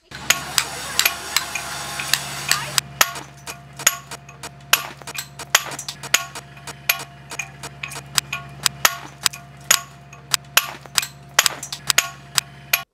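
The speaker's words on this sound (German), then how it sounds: "wie schwer es ist, Steine zu meißeln." Stone being chiselled with a hammer and chisel at an outdoor festival, sharp metallic taps striking in an irregular rhythm, many distinct hits close by, with faint crowd murmur in the background.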